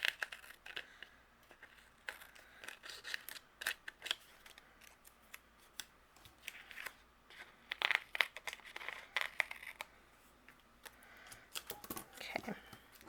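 Scissors trim excess cardstock from a handmade fall gnome card panel, a run of quiet close snips and paper crinkles with irregular rhythm, some cuts sharper than others.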